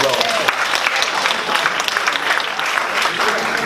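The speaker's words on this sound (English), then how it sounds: "Let's give everyone a round of applause." An audience at a summit talk on play breaks into a round of applause, dense steady clapping from many hands filling the space for a few seconds, with some voices mixed in.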